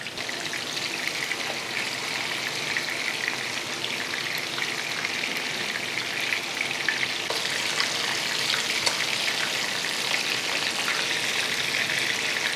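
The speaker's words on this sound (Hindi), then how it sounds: "मछली हम इसलिए पहले फ्राई करते हैं" Rohu fish pieces sizzle steadily in hot oil in a pan, a dense, even crackling hiss that stays close and continuous with no talk over it.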